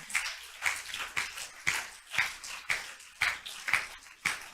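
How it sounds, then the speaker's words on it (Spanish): Congregation in a church service clapping in steady rhythm, about nine evenly spaced sharp claps, moderately near, with no talk over it. "Dele más fuerte el aplauso al Señor."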